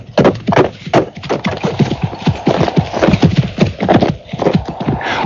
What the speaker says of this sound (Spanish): cabalgué por una corta calzada que me condujo a la casa.